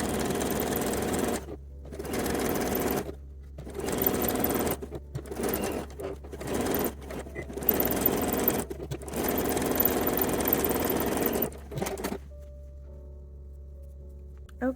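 A sewing machine stitches the basted seams of a lingerie teddy with unlined cups, running in steady bursts separated by short pauses, close and fairly quiet, before falling silent at the end.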